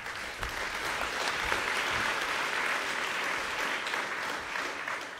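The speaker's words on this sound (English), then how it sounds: "Please give him a warm applause." Warm, sustained applause from a conference audience at PyCon.DE 2017 as a speaker is introduced, many hands clapping in an even, close roar that holds steady throughout.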